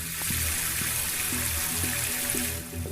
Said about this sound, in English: Water started running.